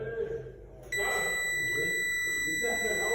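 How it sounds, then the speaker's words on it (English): A Fluke 87V digital multimeter gives a continuous, long steady continuity beep while testing a defective N-channel MOSFET, the tone starting abruptly and holding, with faint background noise before it. "So infinite zero, continuous beeping. There's a long beep reading."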